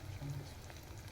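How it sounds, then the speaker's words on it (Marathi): Egg bhajis (fritters) frying in hot oil, giving a faint, steady crackling sizzle with fine spattering and no one talking. "इकडं भज्या व्हायला लागल्यात. बघितलं ना कशी जोराने उडते."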